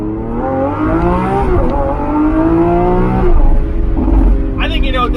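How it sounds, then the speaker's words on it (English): A 2021 Lamborghini Aventador SVJ Roadster engine revs up and down in loud, close sweeps of rising and falling pitch, with a voice briefly heard near the end. "That is a 2021 Aventador SVJ Roadster."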